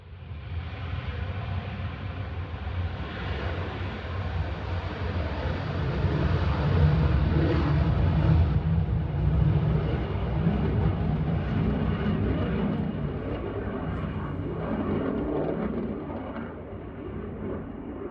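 Aircraft at the RAF Coningsby airbase, a steady loud engine roar that swells in the middle and stays continuous throughout, with no talking.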